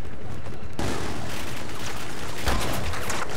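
Sustained bursts of Battlefield 4 gunfire crackle and boom over a dense, noisy background, with a sharp louder blast near the end.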